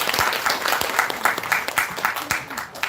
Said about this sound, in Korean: 지금까지 수고해주신 강의사님 다시 한번 큰 박수 부탁드리겠습니다.